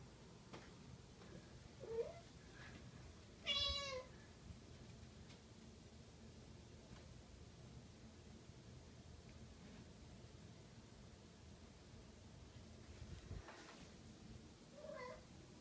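A cat meows a few times, short faint calls over quiet background hiss, with one clearer meow standing out among them.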